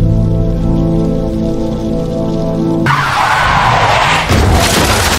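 A car skidding then crashing: a loud, steady engine drone with sustained tyre hiss that suddenly gives way to a broad noisy roar of impact and debris, close and intense, cutting off sharply at the end.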